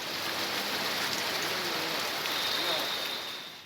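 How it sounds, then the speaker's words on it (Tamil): Heavy rain falls steadily during a thunderstorm, a dense continuous hiss of drops pouring down without a break, loud and close. "இடி மின்னலுடன் கனமழை பெய்துள்ளது"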